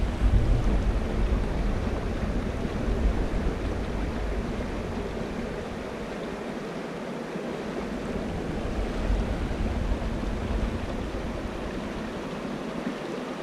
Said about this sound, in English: I'll be quiet for a few seconds and let you just listen to the water.